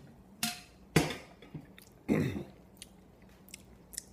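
Someone chews dry instant oatmeal without water, a few crunchy bites and mouth noises close to the mic, with quiet pauses between them.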